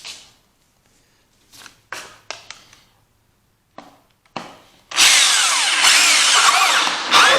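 A few sharp knocks and taps come first, then a power drill fitted with an inexpensive 3-inch hole saw bites in and cuts tweeter holes for a Bluetooth speaker build. The cut is loud and steady and runs for a couple of seconds, close to the listener.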